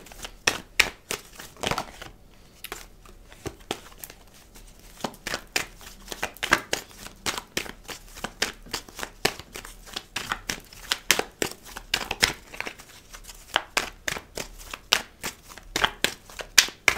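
Tarot cards are shuffled by hand for a reading, a brisk series of sharp papery slaps and riffles in fairly regular rhythm, close and dry, with no speech.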